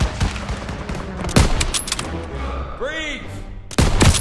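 Sniper rifle shots and gunfire from a Call of Duty WW2 battle, sharp close cracks among busy combat noise, with a shouted voice and a whistling sweep partway through.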